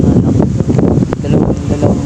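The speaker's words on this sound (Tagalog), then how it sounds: "kasi sobrang hangin dito" Steady, heavy wind buffets the microphone, a constant low rumbling roar with gusty fluctuations throughout.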